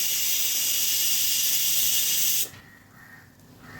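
Shiuli leaf fritters deep-frying in a pan of hot oil give a loud, steady hiss that cuts off abruptly partway through, leaving a quieter, softer sizzle.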